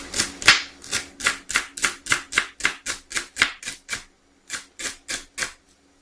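A kitchen knife chops through the inner part of a leek on a board in a steady, fast rhythm of about fifteen crisp close strikes, then pauses briefly before a final short run of cuts.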